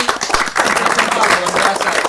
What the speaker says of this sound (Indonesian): Oke, tepuk tangan dulu untuk Sriti.